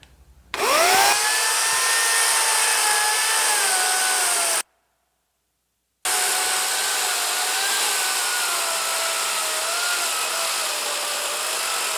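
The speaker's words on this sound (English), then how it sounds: "It's like the most powerful, longest bar electric chainsaw I can find." A long-bar electric chainsaw whines loudly and steadily while cutting mulberry wood, its pitch sagging under load, then stops briefly and resumes for another long cut.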